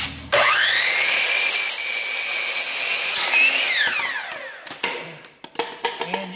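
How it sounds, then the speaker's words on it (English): A chop saw slices a PVC pipe in half with a loud, steady whining roar for about four seconds, then winds down, followed by close clattering and knocking as the cut pieces are handled. "That chop saw makes a quick work out of it."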